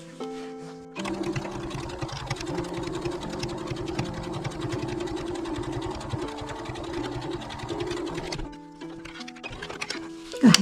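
A sewing machine runs an edge stitch on a three-zipper pouch, one sustained close burst of rapid needle clatter and motor hum, stopping near the end.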